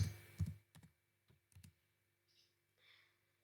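Keys tapped on a computer keyboard, a quick cluster of clicks followed by a couple of separate presses, including the Enter key, close and quiet with soft faint noises after.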